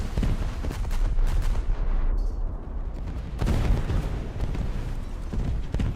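Battleship guns in Junk Thunder's arcade battle mode boom in heavy, rumbling volleys, a dense barrage of deep blasts with brief lulls before a renewed loud salvo.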